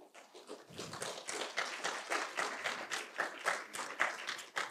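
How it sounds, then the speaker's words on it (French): Audience applause at a tech conference talk, rising after a quiet start into steady, moderately loud clapping from a room full of people that keeps going throughout. "Vous êtes gentils, vous applaudissez"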